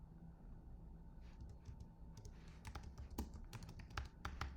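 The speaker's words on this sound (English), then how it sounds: "going to type in Yeti, and I'm going to hit enter" Keys clack on a computer keyboard as a word is entered on a crafting project, a quick burst of close, crisp taps ending in a firmer keystroke, with a low steady hum beneath.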